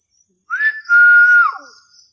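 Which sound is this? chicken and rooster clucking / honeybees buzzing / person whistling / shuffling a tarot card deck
person whistling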